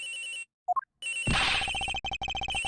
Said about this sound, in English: The ring is coming from somewhere in here, sir.